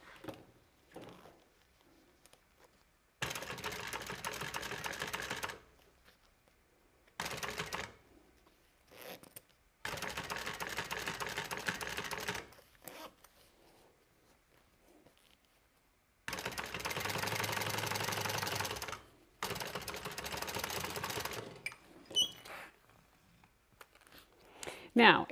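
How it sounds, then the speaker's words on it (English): A sewing machine topstitches the main body of a fabric bag in several bursts of rapid, even mechanical whirring, each lasting a few seconds. Quiet pauses separate them, with soft handling noises in between. "when I top stitch, I'm going to open this up and top stitch on the main part of the bag"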